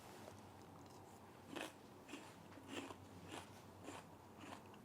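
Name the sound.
chewing crunchy cabbage salad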